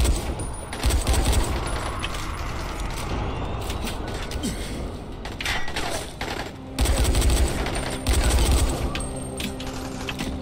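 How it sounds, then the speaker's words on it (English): Gunfire in the zombie game Dying Light: bursts of rapid shots and crackling clatter recur in loud clusters over a continuous noisy background, with a faint voice at times. "Is he shooting it?"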